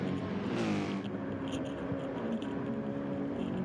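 A Mercedes race car engine in the Nürburgring 24 Hour race drones steadily with a harmonic, revving tone at moderate distance, one brief rising whoosh near the start.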